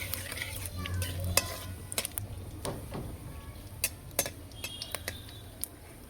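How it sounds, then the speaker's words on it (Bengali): Dried red chilies and panch phoron crackle in mustard oil in a wok while a utensil stirs them, making irregular sharp clicks and scrapes over a soft continuous sizzle, close by. "শুকনো লঙ্কা পাঁচ ফোড়ন নেড়ে দেবো"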